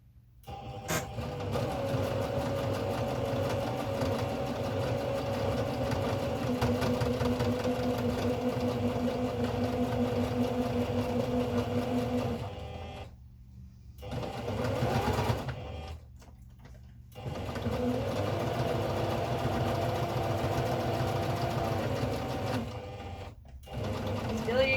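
Sewing machine stitching a quilt block, a long steady close-up whir broken by a few short pauses and restarts, with someone speaking at times.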